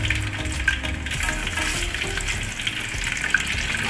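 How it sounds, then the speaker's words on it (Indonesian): Chicken pieces deep-frying in hot oil for Indonesian soto ayam, a loud continuous crackling sizzle heard up close with no talking. "Setelah minyak panas, teman-teman masukkan ayamnya."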